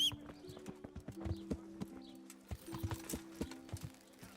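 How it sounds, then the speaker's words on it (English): Horse hooves clip-clop at a steady walking rhythm in the medieval video game Kingdom Come: Deliverance, clear and fairly close, with faint ambient bird chirps and game music tones in the background and no talking. "let me call my horse."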